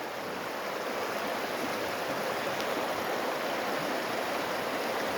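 Flood water after a mudflow at Kotur Bulak rushes along a stream in a dense, unbroken roar. It holds steady at moderate loudness for the whole stretch, with no one talking.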